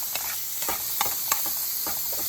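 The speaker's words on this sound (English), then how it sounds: "You want to just create a nice saute on it before you put in your peppers and onions." Chicken sautéing in a hot pan, a steady close sizzle and hiss with scattered soft stirring clicks and pops throughout, no voices.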